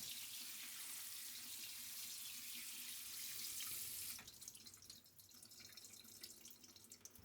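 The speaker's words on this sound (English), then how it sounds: "Wash the adzuki beans with the water like this to remove the bitterness." Adzuki beans being rinsed in a sieve under a running tap: a steady, close hiss of flowing water that shifts to a lighter, patchier splash about halfway through.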